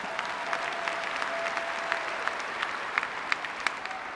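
A crowd at a conservative presidential candidate forum breaks into sustained applause, a steady roar of many hands with sharper individual claps popping out near the front, continuing evenly without speech.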